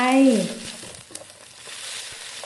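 Sausage tossed into a hot pan with carrot and egg for sausage fried rice, a steady close sizzle with stirring scrapes and a brief voice at the start.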